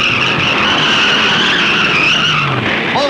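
Race cars skid with tires squealing as a Ford hooks bumpers with another car at Darlington in 1964, a loud continuous high screech over roaring engines throughout.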